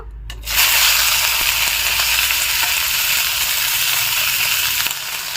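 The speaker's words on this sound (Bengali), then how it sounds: "তেল গরম হয়ে গেছে আমি যে সবজিগুলো কেটে রেখেছিলাম ওইগুলো একটু দিয়ে দেবো" Chopped vegetables drop into hot oil in a wok and burst into a loud, close, steady hiss and crackle of frying that holds for several seconds.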